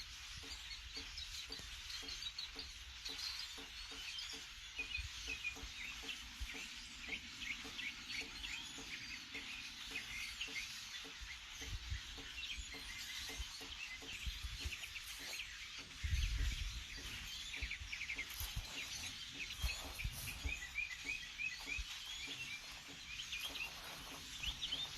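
A massive flock of migrating birds, millions gathered to roost for the winter, produces a continuous, overlapping din of squawks and chirps that never lets up, heard from a moderate distance.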